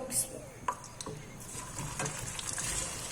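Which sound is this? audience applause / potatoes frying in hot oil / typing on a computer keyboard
potatoes frying in hot oil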